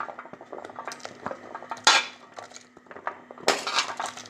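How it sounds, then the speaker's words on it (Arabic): Pieces of taro drop into a pot of boiling meat soup, giving close, sharp clinks and clatters against the pot with a few splashy bursts between quieter bubbling. "غليت الشوربه بتاعت اللحمه وهرمي فيها القلقاس بتاعي"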